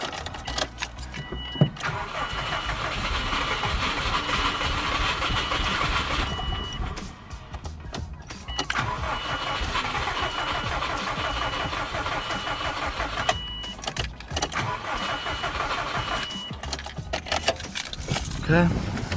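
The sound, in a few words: 2002 Subaru Bugeye engine cranking and starting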